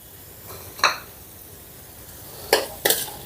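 A pan of methi and potato curry gets stirred with ground coriander, cumin powder, garam masala and chopped green chillies: three brief, quiet scraping strokes spaced apart over low background hush.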